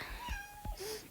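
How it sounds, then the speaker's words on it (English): A pet cat meows outside a closed bedroom door, two or three short rising and falling cries in quick succession, close and clear with nothing else over them. "That was my cat meowing to get in my bedroom."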